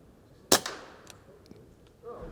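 A single sharp air rifle shot at a feral pigeon outdoors in buffeting wind, a crisp crack followed by a brief tail and faint knocks, with low wind noise underneath.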